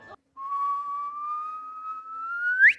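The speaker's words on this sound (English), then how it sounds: "See the whistle?" A single whistle is blown in a My Little Pony cartoon scene during a party on castle grounds. It gives one sustained, clear tone that holds steady for over two seconds, then sweeps sharply upward at the end, standing alone without talk.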